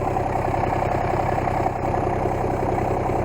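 A tractor engine idles close by with a steady, loud diesel chug and a continuous low throb, holding constant through the short stretch.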